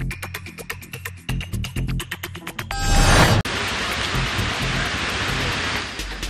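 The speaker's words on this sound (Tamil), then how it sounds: "கொல்லிமலையின் பல்வேறு பகுதிகளில் சூறாவளி காற்றுடன் மழை பெய்தது" Heavy rain driven by strong gusting wind in the Kolli Hills roars as a dense, steady wash, following a brief rhythmic tapping section at the start.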